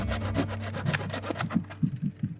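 A saw cuts through a piece of dry firewood with quick, rhythmic rasping strokes, close and fairly loud, each pull crisp and gritty over a low hum in the background.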